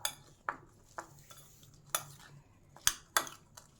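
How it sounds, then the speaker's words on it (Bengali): Tomato chaat with salt, cucumber, green chilli and coriander being mixed in a bowl, giving several sharp clinks and scrapes of a utensil at irregular intervals, fairly quiet and close, with no talking. "এইবার এটাকে আমরা ভালো করে মিশিয়ে নেব যাতে নুনটা সবটাই লেগে যায়।"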